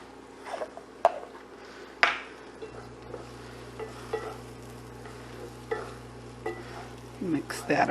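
Caramelized pearl onions sprinkled with pepper being stirred in a pan off the heat, soft scattered scrapes and clinks of a utensil over a faint low hum, fairly quiet and close.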